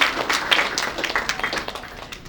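Guests at a Nepali Christian wedding ceremony clap together in a brief, lively burst of applause, fairly close and fading slightly toward the end.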